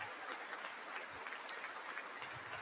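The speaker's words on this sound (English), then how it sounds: "So clapping for the ambassador." Faint, steady applause from a distant audience at a State of the Union address in the House chamber, a dense unbroken patter with no voices on top.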